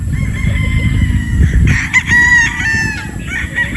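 A sweater gamefowl rooster crows loudly and close by, one long drawn-out crow, after a stretch of lower clucking and rustling.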